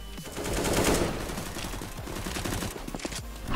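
Rapid automatic gunfire in the video game CS:GO, a dense sustained burst that rattles on for several seconds, loud and close, with no one speaking over it.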